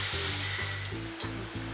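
Schezwan fried rice cooks in a hot pan, giving a steady sizzle with a few rhythmic knocks and scrapes of a spoon against the metal.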